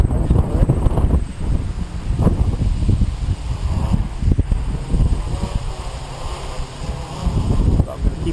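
A DJI NAZA GPS quadcopter flies in gusty wind of around 25 mph, its motor drone mostly buried under loud, rumbling wind buffeting on the microphone, with the noise rising and falling in gusts throughout.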